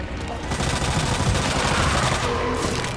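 Gunfire from the Resident Evil 2 Remake video game, a dense rapid stream of shots rattling continuously at moderate loudness for a few seconds with no clear talking over it.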